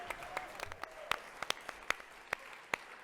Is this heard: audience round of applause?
yes